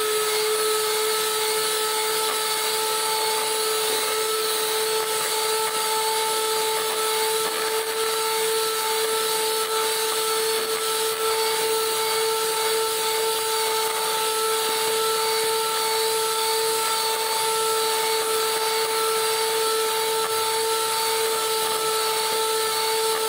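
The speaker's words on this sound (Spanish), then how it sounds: "Vamos a seguir batiendo para que vean qué rápido está esta crema." An electric mixer beating a cream filling, running as a loud, steady motor whine with a constant pitch and no pauses, close up and alone.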